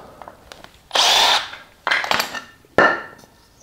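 A power drill bores pocket holes into wood through a Kreg pocket hole jig in three close, loud whirring bursts, each under a second long, separated by short pauses with small clicks and handling knocks.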